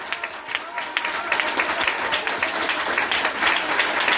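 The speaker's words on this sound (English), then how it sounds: "give God the loudest hand clap that you ever gave him" Church congregation bursting into loud, sustained hand-clap applause, a dense crowd of claps building and holding steady throughout, with some voices mixed in.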